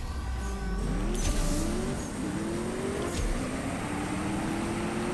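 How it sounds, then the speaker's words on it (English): A Porsche 992 GT3 engine in CSR2 revs continuously, loud and near, its tone climbing and dropping through quick gear changes in a steady, sustained roar. "Porsche 992 GT3"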